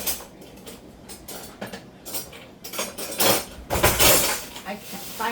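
Metal cutlery and utensils clink and clatter while someone rummages through a kitchen drawer hunting for a spoon, with scattered clinks that grow busier and louder toward the end.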